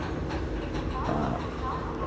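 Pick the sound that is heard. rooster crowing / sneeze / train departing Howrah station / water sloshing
train departing Howrah station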